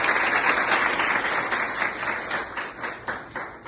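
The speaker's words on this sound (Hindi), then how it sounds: "हमारी संस्था स्वास्तिक फैशन इंस्टीट्यूट और हमारे सब विद्यार्थियों को तालियां बजाएं" Audience applause for the Swastik Fashion Institute and its students at a motivational speech event, a steady broadband wash of many hands clapping that holds evenly for several seconds, then thins toward the end.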